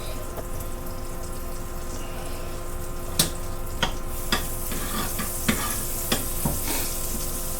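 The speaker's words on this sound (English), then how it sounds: "We are just going to get now a shot of butter in the old fry pan." Butter sizzles steadily in a frying pan, a continuous bright hiss with a few sharp clicks of a utensil stirring or tapping the pan, no talking.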